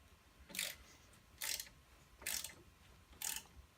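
A ratchet clicks in four short bursts of rapid pawl clicks, close and clear, with brief pauses between, while loosening the three bolts that hold the hub on a Chevy S10.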